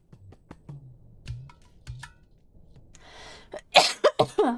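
A few short, harsh coughs burst out near the end, loud and close, from someone recovering from a cough, after a quieter stretch of faint clicks and low murmurs.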